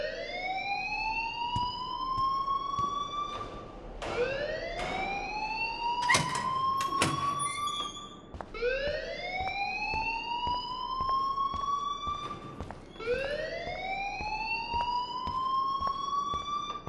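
Alarm in the video game Life is Strange, a loud siren wailing in repeated rising sweeps roughly every four seconds, with a few sharp clicks and knocks in between, and no talking.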